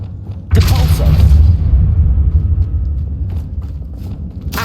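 A Depulso spell blast goes off in the Hogwarts Legacy video game as a sudden loud boom with a deep rumbling thud that decays slowly, followed by quieter game ambience.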